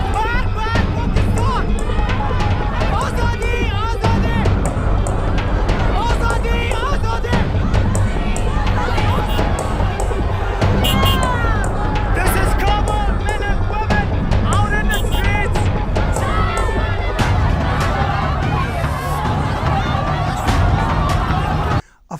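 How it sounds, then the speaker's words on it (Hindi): A large crowd of protesters outside the Pakistan embassy, a dense, loud, continuous roar of many voices with shouted chanting, close and steady throughout. "पाकिस्तान के एम्बेसी के बाहर नारे लग रहे हैं, मर्ग बर पाकिस्तान,"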